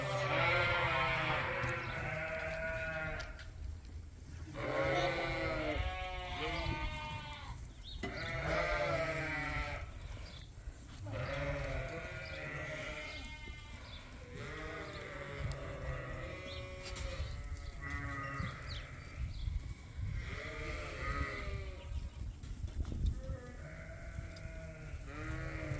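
Sheep on a sheep farm bleat over and over, with many overlapping wavering calls from a flock near and far, loud and almost continuous, and no talking.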